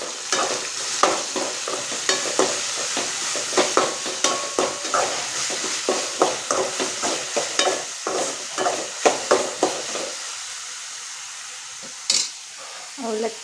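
Poha (avalakki) with onion and green chilli being stirred in a hot pan: rapid, rhythmic scraping strokes over a hissing sizzle, close and fairly loud, easing off near the end with a last knock.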